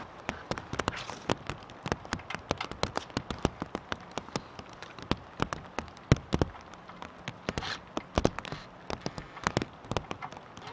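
Rain falls outside a garage, with a steady soft hiss broken by frequent sharp, irregular drips and taps landing close by on nearby surfaces.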